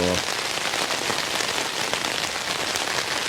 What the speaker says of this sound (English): it's getting heavier and heavier, the rain